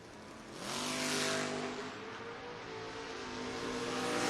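A Ford Mustang footbrake drag race car launches hard and accelerates down the strip, a loud rising engine roar with climbing harmonics that swells after half a second and holds strong to the end.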